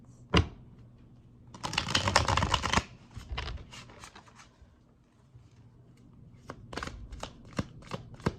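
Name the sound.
shuffling tarot cards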